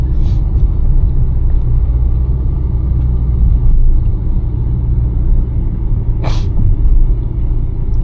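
2014 Toyota Fielder Hybrid running with a steady low rumble and hum throughout, heard from inside the car, with a couple of brief faint clicks and no speech.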